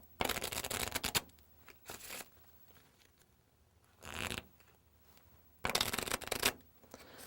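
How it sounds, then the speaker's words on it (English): Cards in a powdered deck of playing cards are riffle shuffled several times in quick, close bursts, each a sharp fluttering burr of cards interleaving, separated by quiet pauses with faint handling noise. "After you do that, give it a few riffle shuffles."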